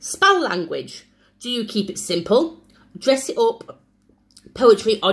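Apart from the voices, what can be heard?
No everyday noise stands out behind the speech.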